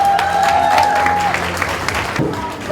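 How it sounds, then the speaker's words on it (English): Crowd applause fills a mayoral campaign event in Brockton, a loud, dense burst of clapping with a steady whistle-like tone early on, holding strong for under three seconds. "Guys, give them a round of applause for them"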